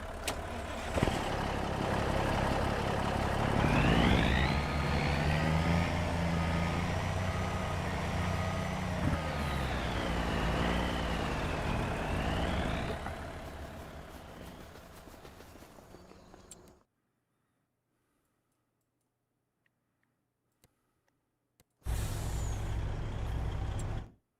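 Heavy truck in the Farming Simulator 25 game, loud engine drone with rising and falling pitch and air-brake hiss, cutting to near silence before the rumble resumes abruptly at the end.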